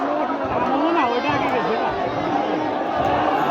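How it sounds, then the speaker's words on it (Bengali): Spectators at a country boat race in Kushtia roar and chatter in a continuous, dense crowd din, with shouting voices blending into a steady wash of cheering. "ইতিমধ্যে শুরু হয়ে গেছে উল্লাস"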